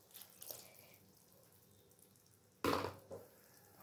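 A little water from a rinsed bowl splashes into a pan of mushroom posto, a short burst of pouring late on after faint background kitchen noise, with no talking.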